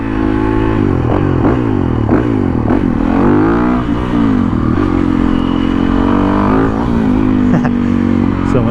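A Yamaha WR450F supermoto motorcycle rides close by, its engine revving up and down repeatedly with loud rising and falling pitch.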